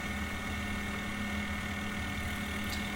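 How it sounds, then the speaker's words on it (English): A machine tool runs under power feed while making an angle plate, giving a steady, moderately loud motor hum with a low drone and constant mechanical whir, uninterrupted and without voices. "I start it up, pull the power feed, and then it just runs down in there, nice and quick and easy, and here it goes."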